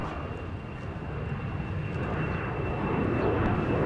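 An Airbus A350 jet airliner at Minneapolis–Saint Paul airport roars with a broad, rumbling engine noise that swells steadily louder as it nears, heard alone and fairly close.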